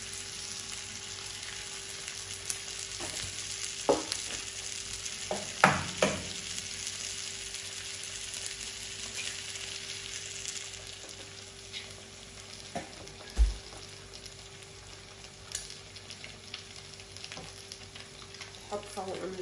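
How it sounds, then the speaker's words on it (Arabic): Eggs frying in a pan with leftover fried potatoes give a steady close sizzle, broken by a few sharper crackles and stirring clicks. "هلا نقلي البيض."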